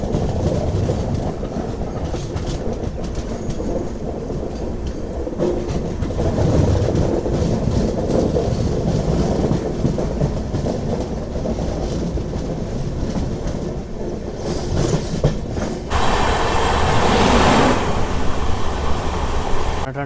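Karimnagar–Tirupati weekly superfast express with LHB coaches running between Kalahasti and Renigunta Junction, a steady clickety-clack rumble of wheels over rail joints. It grows louder and harsher near the end.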